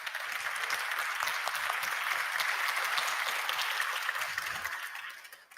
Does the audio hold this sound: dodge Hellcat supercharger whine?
no